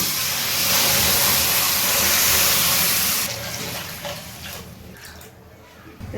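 Water pours onto sugar in a pot for rasgulla syrup, a steady loud rushing splash for about three seconds that then softens to a lighter trickle and fades.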